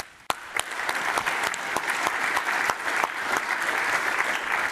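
Audience applause at the closing session of the DENOG14 network operators' conference, a dense sustained clapping from a large room that starts abruptly and holds steady, with sharper individual claps standing out near the front.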